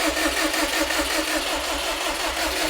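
A built Subaru STI engine cranking over steadily with a continuous mechanical drone, turning without a clear catch, loud and close with no talking.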